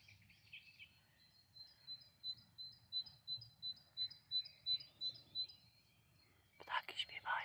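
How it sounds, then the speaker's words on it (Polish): A small bird sings in a spring garden with tulips and daffodils, a fast regular series of high chirps rising in loudness then fading, followed by a brief louder burst, over a faint low background. "Ptaki śpiewają."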